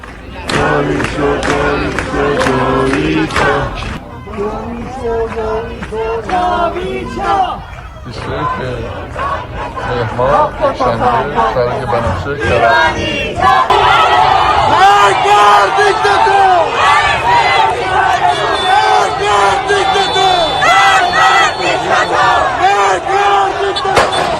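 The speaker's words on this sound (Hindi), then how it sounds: "सड़कों से लोग नहीं हट रहे, अभी भी वैसी भीड़, वैसी आगजनी" A large crowd of protesters fills the streets, a dense, loud roar of shouting and chanting voices that builds and swells continuously with no break.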